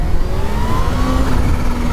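A Kawasaki Z H2 motorcycle engine drones close and loud with a steady, rising mechanical tone under wind noise, with no talking.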